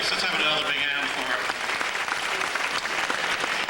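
Sustained applause from a pageant audience at a senior women's beauty contest, dense steady clapping filling the whole stretch at close, even loudness with no gaps.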